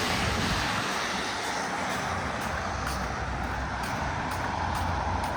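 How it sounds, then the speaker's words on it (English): A YRT bus passes along a wet road in Toronto's early morning rain, giving a continuous broadband hiss of tyres on water with a rumbling engine, loud and close throughout. "When I seen a YRT bus, pass by."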